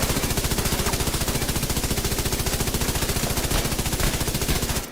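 An LMG machine gun in The Division 2 fires in one long, unbroken burst, with rapid evenly spaced shots that are loud and close for about five seconds before cutting off.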